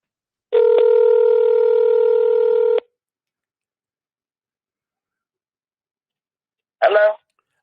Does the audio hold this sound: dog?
no